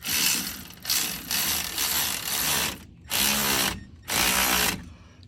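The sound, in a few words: power ratchet driving bolts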